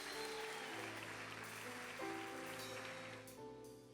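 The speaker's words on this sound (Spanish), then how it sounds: "si usted le va a dar un aplauso al Señor" A church congregation claps in a dense, continuous patter that sounds a little like rain, with sustained music tones underneath, all fairly faint and distant throughout.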